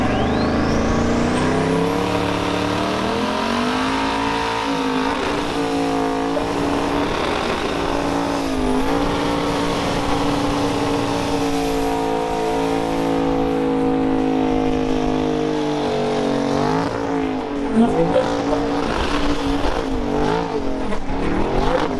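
A burnout car with a new exhaust system revs hard and holds at high RPM, its engine note rising and falling while tire squeal screams over it, loud and close throughout, with no talking.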